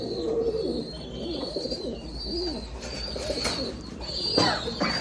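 Domestic pigeons coo in low, rolling phrases throughout, with higher bird chirps and a steady background hum, the calls close and moderately loud.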